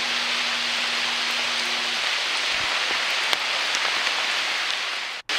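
Moderate rain falls in woods beside a stone water channel, giving a dense, even hiss of drops with a few louder nearby patters and no voices.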